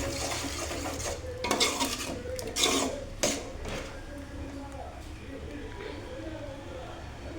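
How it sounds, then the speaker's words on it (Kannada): A spoon stirs tempering into a pot of bisi bele bath, with several scraping clatters against the vessel and a light sizzle underneath while someone talks. "ಚೆನ್ನಾಗಿ ಒಗ್ಗರಣೆ ಹಾಕ್ಕೊಂಡಿದ್ನಲ್ಲ ಅದನ್ನು ಚೆನ್ನಾಗಿ ಮಿಕ್ಸ್ ಮಾಡ್ಕೊಳ್ತಾ ಇದ್ದೀನಿ"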